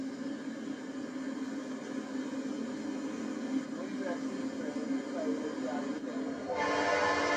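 Santa Fe freight trains run on single track with sidings, giving a continuous low rumble of rolling cars and wheels under a broad hiss that grows louder and brighter toward the end, heard from a distance.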